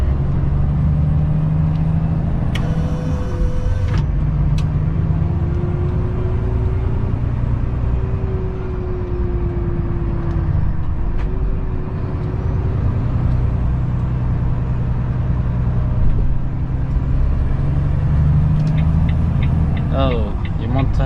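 Brand-new Volvo FH16 truck on the road at sunset, its engine a loud, steady drone with road and cab noise filling the whole stretch, rising slightly in pitch at moments.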